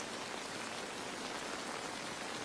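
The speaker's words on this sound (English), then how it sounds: "Just wide awake in the rain," Steady rain falling in a jungle scene from the war drama series The Pacific, a dense, even hiss of drops with no breaks and no voices, fairly soft overall.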